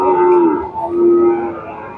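A young local heifer calf, about eight or nine months old, at a busy cattle market lets out a long, loud, droning moo that dips briefly and then resumes close by, over a low crowd murmur.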